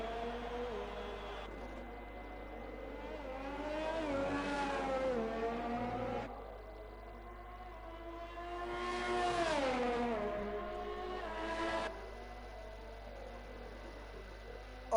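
Race cars lapping fast at Bahrain in a racing video game, with engines rising and falling in pitch through two long surges under a steady hum, while a commentator's voice runs beneath.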